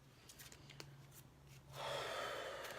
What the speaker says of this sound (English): it's been a minute that I've been shuffling